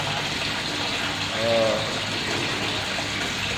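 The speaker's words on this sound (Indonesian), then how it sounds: "Kemudian kita isi air baru full ke arah" Municipal tap water pouring into a koi pond, a continuous rushing gush at steady volume, with a faint tonal whine swelling briefly in the middle.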